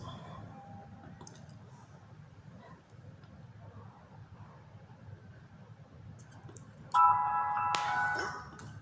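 A mobile phone rings indoors. A short electronic ringtone cuts in loudly near the end over a low background hum, after a stretch of faint room noise with quiet clicks.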